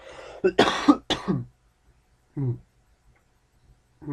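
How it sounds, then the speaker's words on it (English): A person coughs several times in quick, close succession, harsh broadband bursts, then pauses and makes one shorter throat-clearing sound a second later, with near silence between. "Excuse me while I cough."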